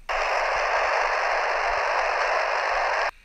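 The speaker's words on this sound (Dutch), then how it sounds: "Wanneer geen signaal wordt ontvangen, hoor je een ruis." A VHF telemetry receiver picking up no signal gives a steady, loud hiss of static, starting and stopping abruptly with faint low thumps underneath.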